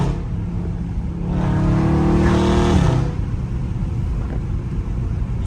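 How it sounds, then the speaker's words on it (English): A Dodge Scat Pack car in traffic downshifts with a rising engine rev and throaty exhaust swell in the middle, then settles back into a low idle rumble, heard close from inside. "These are soft downshifts too"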